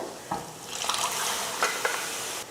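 Boiled green peas being mixed into a thick tomato masala in a pan, a soft spoon scrape and a brief wet stirring swish, fairly close and quiet.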